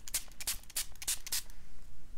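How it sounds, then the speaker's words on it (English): A series of quick spray-bottle squirts onto watercolor paint on rough paper, about six bursts in a loose rhythm, close and moderately loud with no voices. "Have you ever tried spray with alcohol?"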